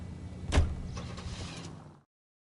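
A car in the video game L.A. Noire gives a brief thump, then a steady mechanical hum that stops abruptly after about two seconds. No voices are heard.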